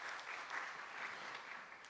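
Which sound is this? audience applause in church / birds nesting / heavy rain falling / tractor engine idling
audience applause in church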